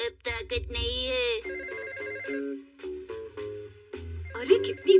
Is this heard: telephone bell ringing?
yes